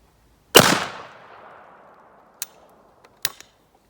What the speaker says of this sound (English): We're going to be shooting it into this piece of plywood here